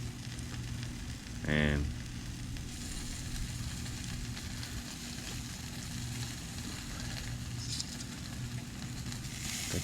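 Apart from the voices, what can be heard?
Polish sausages sizzling on a Sterno charcoal grill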